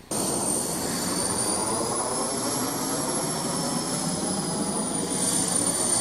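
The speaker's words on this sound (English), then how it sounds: "Right here, the engine is still only at idle, producing only a small percentage of the thrust" A small RC model jet engine idling, a steady loud turbine roar with a high whine that slowly rises and falls slightly, close and continuous.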